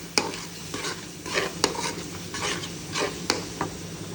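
A spoon stirs egg masala in a pan: turmeric, Kashmiri chicken masala, black pepper powder and coriander powder scraped round in rhythmic strokes, with a continuous close sizzle of frying underneath.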